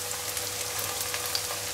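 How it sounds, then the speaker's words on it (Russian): Chicken pieces frying in hot oil for a Chinese-style dish, a steady close sizzle with faint crackles throughout and no voices. "нужно сейчас на горячем масле их быстренько обжарить"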